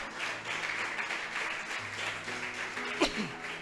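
A church congregation applauds during a sermon, a moderate, steady spread of clapping with faint voices underneath and a brief sharp accent near the end.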